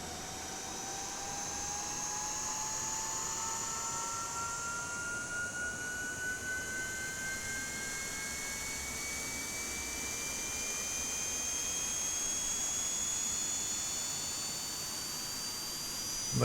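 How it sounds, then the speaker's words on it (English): A Boeing 787's APU and engines spool up in Microsoft Flight Simulator, making a steady jet-like rush with several high whining tones slowly rising in pitch, heard alone at moderate level. "What I want to do is allow you to listen to the sounds of the engines and stuff"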